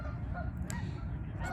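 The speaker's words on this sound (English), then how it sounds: "I have to compete with the geese" Geese honk outdoors, several overlapping nasal calls at a moderate distance over a steady rumble of open-air background noise, with no talk.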